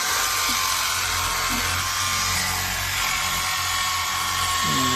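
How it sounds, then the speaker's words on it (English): DURATECH electric fillet knife cutting white grunt fish at a fillet table, a continuous high-pitched motor whine with buzzing blade vibration, close and loud throughout. "let's take it to the fillet table and start filleting some fish"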